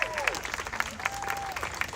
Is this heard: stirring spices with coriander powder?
no